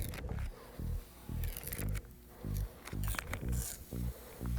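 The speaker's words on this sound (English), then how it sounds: "And now we peel." Transfer tape peeling off a vinyl stripe decal on a Chevy Blazer, heard as a series of close, rhythmic ripping bursts, each a short tearing pull with brief pauses between.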